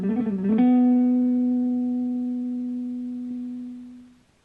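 An electric guitar in a shred lesson plays a very short upstroke picking riff across strings, a quick flurry of notes that ends on one long ringing note fading slowly over several seconds.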